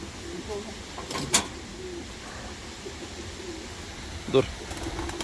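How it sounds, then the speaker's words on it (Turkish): Tumbler pigeons coo softly in a low, steady murmur outdoors, broken by two sharp knocks. "Uçan kuş arkadaşlar havadaki."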